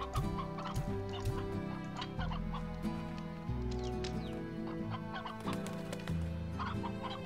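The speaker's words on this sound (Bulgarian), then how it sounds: "Айде, кокошки, няма ли да снесете яйца" Chickens in the video game Slime Rancher cluck steadily and busily, several birds overlapping in a continuous close chorus of short clucks and squawks.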